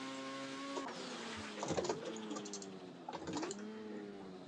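A race car engine in the racing game Assetto Corsa revs and drones, pitch climbing and dropping through gear changes, with bursts of turbo flutter and whooshing.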